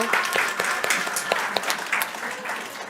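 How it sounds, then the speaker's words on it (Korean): A congregation at a church service applauds, many hands clapping in a dense, steady patter that holds throughout, moderately loud with a few sharper claps standing out. "박수 한번 주세요"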